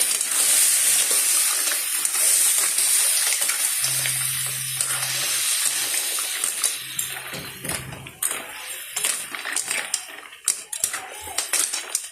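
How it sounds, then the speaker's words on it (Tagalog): Mussels sautéed for ginisang tahong sizzle and bubble loudly in a pan while being stirred, with scraping and clattering of the utensil, and a person speaks under the cooking noise. "So, halo-halo lamang po mga kaguro"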